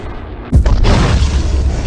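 A sudden loud boom bursts out, followed by a rumbling roar that keeps going to the end, as from a big in-game blast in Solar Smash.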